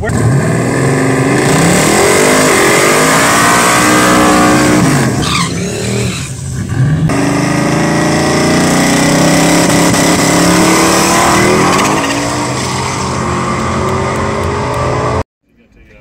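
Loud drag race car roaring down the strip on an eighth-mile pass at Rocky Mountain Race Week, engine screaming near and steady, a brief dip and shift midway, then cutting off abruptly near the end.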